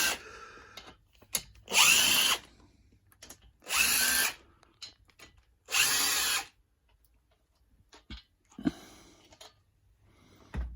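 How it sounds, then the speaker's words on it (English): Old DeWalt power drill loosening the cam cover bolts on a Harley Davidson twin cam engine, with three loud whirring bursts of about a second each, separated by quiet handling clicks and a final short spin, no talking. "very useful tool, the old DeWalt, use it all the time, very good bit of kit actually"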